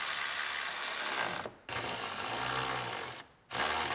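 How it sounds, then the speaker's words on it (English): A ratchet tightens bolts at the top of the dashboard in a 2007 GMC Sierra, with two runs of close, fast mechanical clicking, each broken by a short pause, and no talk. "We can bolt in the top of our dash here."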